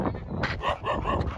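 Two street dogs bark outdoors in quick, repeated close barks and yips, loud and overlapping over a short burst.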